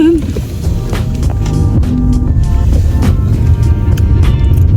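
Low, steady road rumble from inside a car driving slowly through a new housing estate near Cologne, with voices talking over the continuous engine and tyre noise.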